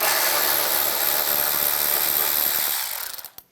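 A ratchet wrench fitted with a 7mm socket backs out a headlight mounting screw on a 2011-2015 Chevrolet Cruze, giving a dense, close, continuous clicking whir that stops sharply near the end, with a few final clicks.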